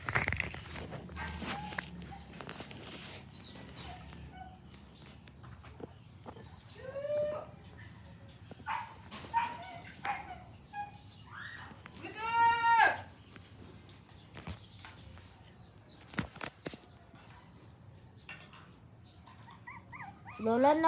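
Puppies whimpering and yipping in short high bursts scattered across a quiet room, with footsteps and soft movement between calls, and people talking faintly now and then.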